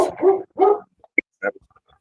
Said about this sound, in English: who got that dog?